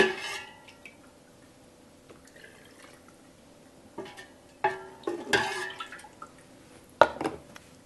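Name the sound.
chicken broth being poured into glass jars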